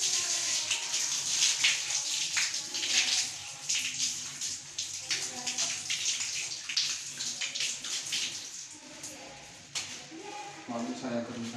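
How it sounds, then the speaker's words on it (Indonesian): Running water splashes steadily from a tap as hands are washed with soap, a close continuous hiss and patter with shifting splashes throughout. "saya akan cuci tangan secara WHO dan menggunakan sabun"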